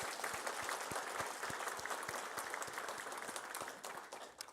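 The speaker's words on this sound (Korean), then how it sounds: "우리 박수 한번 보냅시다." A church congregation claps at a Christmas service, steady applause from many hands filling the room and slowly tapering toward the end.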